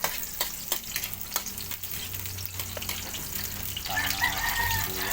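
Garlic and onion frying in a pan, a steady close sizzle with occasional sharp clinks and scrapes of a utensil, growing slightly louder near the end.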